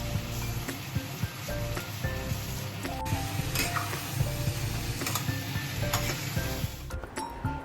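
Chicken cooks in a hot pan with a continuous low sizzle. Occasional clinks and ticks from utensils against the pan break through, and no one speaks.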